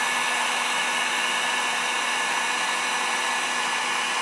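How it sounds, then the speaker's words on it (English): A heat gun roars steadily and loudly while melting garbage bag plastic, a constant blowing hiss with a faint whine and no pauses. "keep the heat gun kind of away from the aluminum, as it will create an intense amount of heat and burn the motor up"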